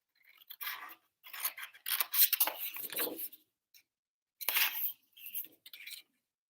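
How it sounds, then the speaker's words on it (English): Scissors snip through cardstock while trimming pieces for a slimline card, giving a series of short, close, crisp cuts in irregular bursts separated by brief quiet gaps. "I'm going to cut these off as well right here"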